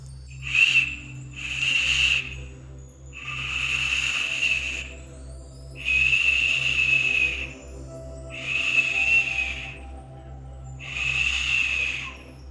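A tiny shell blown as a whistle gives six separate breathy, high tones in short bursts of about a second, with brief pauses between them. It is fairly close and there is no talk.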